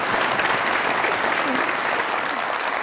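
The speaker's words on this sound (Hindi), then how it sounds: "बहुत सारी तालियां मैडम के लिए।" Studio audience on a Pakistani comedy talk show applauds a guest, a dense, steady wash of clapping that stays loud and even throughout.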